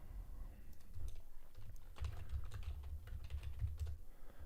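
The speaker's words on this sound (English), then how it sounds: "If you do hear typing, that's just me making alerts" Soft, rapid clicking of keys on a computer keyboard, steady typing in irregular bursts against a quiet room hum.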